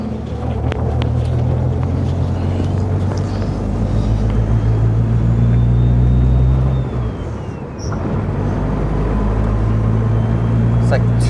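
A car engine drives at around 2,000 rpm with its turbo spooling: a low steady rumble under wind noise, with a faint thin whistle rising and then falling partway through.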